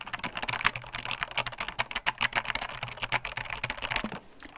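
Rapid, uneven clicking of keys on a computer keyboard, close and continuous with small pauses, then trailing off at the end.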